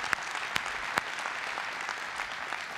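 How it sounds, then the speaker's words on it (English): A conference audience applauds a speaker named Aaron after a tech talk, with a soft, steady wash of many hands in a large room and a few sharper claps nearer by. "can I get another round of applause for Aaron?"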